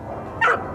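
A single short dog bark rises over steady background noise at an animal shelter, moderately close and brief.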